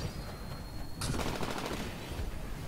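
Weapon fire in the Titanfall shooter game during a Hardpoint Domination match on the Lagoon map: a sudden sharp blast followed by dense rattling, fairly faint, under a steady layer of game ambience.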